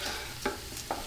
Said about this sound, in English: And we saute the breadcrumb together.